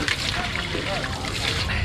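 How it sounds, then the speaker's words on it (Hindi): Water runs steadily from a pipe at a boarding site in Janakpur, a continuous broadband slosh and trickle with faint voices talking in the background throughout. "पीछे पानी बह रहा है"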